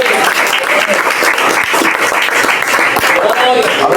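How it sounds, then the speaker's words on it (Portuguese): Church congregation applauding loudly and steadily throughout, a dense wash of many hands clapping in a worship service with a few voices mixed in. "Aplauda Jesus."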